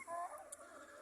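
Hens clucking and pecking at olives on the ground close by, soft scratchy tapping with a few short bird calls over a steady outdoor background.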